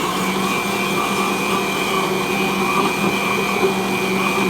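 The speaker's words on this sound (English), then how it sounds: "now that the magic butter machine's at work" Magical Butter machine running while making hemp milk, a steady loud motor whine with an even hum and no pauses, no voices.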